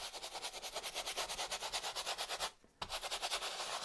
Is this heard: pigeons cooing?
no